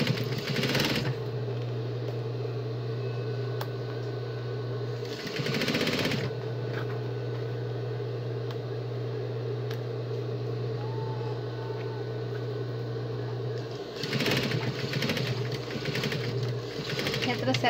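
A sewing machine stitching a travel neck pillow, running in long steady whirring stretches with a short pause and a brief restart, close and loud, with someone speaking quietly over it.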